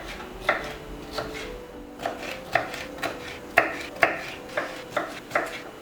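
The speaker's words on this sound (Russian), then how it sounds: "Нарезаем сначала на полоски, а затем на кубики" A knife chops eggplant into cubes on a board in a steady run of crisp, evenly spaced cuts, close and alone with no talking.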